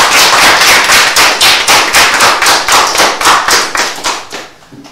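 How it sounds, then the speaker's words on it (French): Audience applause in a TV studio, a loud burst of rhythmic unison clapping with evenly spaced claps that fades toward the end. "On peut l'applaudir également."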